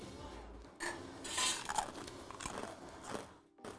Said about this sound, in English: I'm also gonna test a crouton.